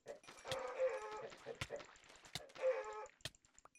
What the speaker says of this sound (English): Why are there so many chickens in the desert?